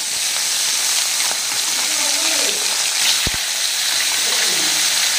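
Fish pieces deep-frying in hot oil in a home kitchen pan, a steady close sizzling hiss running throughout, with faint voices in the background.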